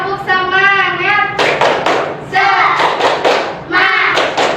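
Children clap a rhythmic spirit cheer in a classroom, sharp hand claps in a patterned beat alternating with loud chanted voices, close and lively.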